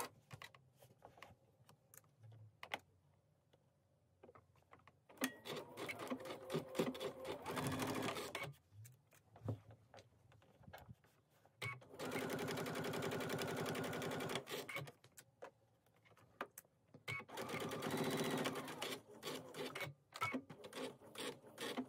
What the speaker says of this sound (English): So set your machine up for a 3/8 inch seam allowance and let's stitch our seams.